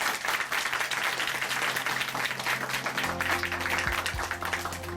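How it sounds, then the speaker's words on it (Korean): A church congregation in Chuncheon claps together in a dense, sustained round of applause, with soft music tones entering partway through and continuing under the clapping. "다시 한번 박수 보내드릴게요."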